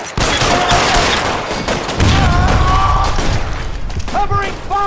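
Rapid bursts of gunfire from the video game L.A. Noire, a dense, loud fusillade of shots running nearly continuously with booming impacts, while voices shout over the shooting.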